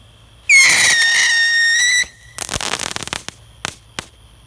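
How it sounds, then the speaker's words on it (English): A bottle rocket firework lets out a loud, high, wavering whistle for about a second and a half, followed by a burst of crackling pops and a few separate sharp snaps, close by and with no speech. "none of the bottle rockets are doing anything to Ricky"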